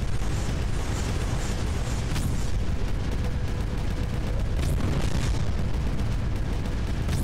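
Cannons firing in the strategy game Creeper World 4, a continuous loud rumbling barrage of booms and blasts with no break, dense and heavy from start to finish.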